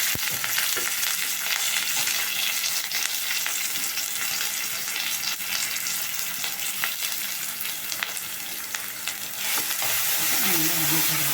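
Onions and curry leaves frying in a pan for chutney give a steady, dense sizzle that holds loud and even throughout, with faint stirring scrapes underneath.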